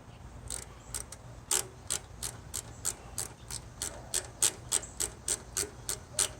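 A socket ratchet wrench turns on a Murray 17.5 lawn tractor. About twenty crisp, evenly spaced clicks come close up over a low background hum.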